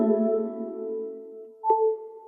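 Futuristic iOS 11 Engage Power wireless charging sound for the iPhone: a layered synthetic tone that sustains and fades, followed by a brighter electronic ping that rings out on its own.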